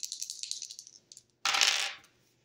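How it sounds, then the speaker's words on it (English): Dice clatter and tumble across a surface during a tarot reading, a string of quick light clicks followed by a brief pause and then a louder, denser rattling roll that dies out quickly. "rolling the dice"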